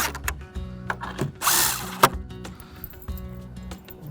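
A power drill tightens a bolt into the corner of a large wooden raised garden box, giving short whirring bursts with ratcheting clicks between them and one louder grinding surge in the middle, close by and alone.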